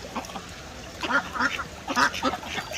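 A flock of ducks quacking at a zoo in Austria, repeated bright nasal quacks in irregular bursts, close and moderately loud, overlapping one another.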